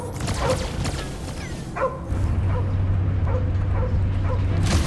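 Cosmo the dog from Guardians of the Galaxy lets out a series of sharp yips and barks with whimpering between them, loud and close, over a low rumbling hum.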